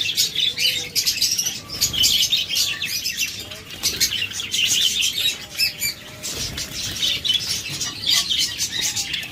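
Caged lovebirds and cockatiels offered as breeding pairs, chirping and squawking continuously in a dense, close chorus with occasional wing flaps throughout.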